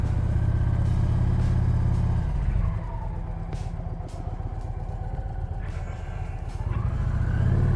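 A 750 lb motorcycle on a riding skills test rumbles steadily up close, its engine note dropping as it slows and rising again as it accelerates, with no talk over it.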